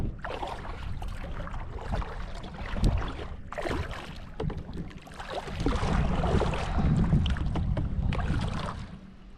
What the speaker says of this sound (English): the wind is just absolutely howling right now